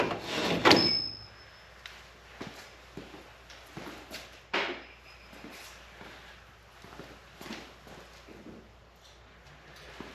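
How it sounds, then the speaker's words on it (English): A metal drawer in a Snap-on KRL Master Series tool chest slides out, a sharp metallic scrape and clunk early on followed by a second bump and softer rubbing and clicks, close and fairly quiet. "and then the drawer will slide right out"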